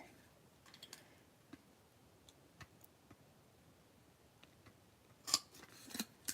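A quiet paper-craft session with scattered faint clicks and light handling, then a cluster of sharper, closer snips and punch clunks near the end, from scissors and a hole punch on paper.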